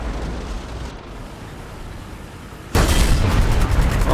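War Thunder tank cannon shot from a Zrinyi I striking an enemy turret ring: one sudden heavy boom that cuts in over low rumbling game ambience and stays loud afterward.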